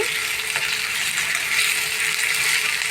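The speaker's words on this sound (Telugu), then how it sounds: "పచ్చివాసన పోయిన దాకా బాగా వేగించాలి" Eggplant curry frying in a hot pan, a loud, continuous sizzle that holds steady throughout with light stirring scrapes and no voices.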